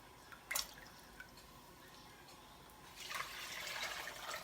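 Measured water poured into a container to make a wet brine for chicken, starting with a few faint drips and then becoming a soft steady splashing pour.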